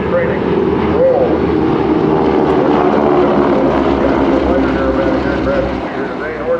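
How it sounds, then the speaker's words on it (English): GEICO Skytypers propeller training aircraft with 600-horsepower engines and 9-foot propellers fly in formation at the 2005 NAS Patuxent River air show, a loud, steady, rumbling engine-and-propeller drone that holds throughout. "These aircraft have 600 horsepower engines, swinging a 9-foot propeller"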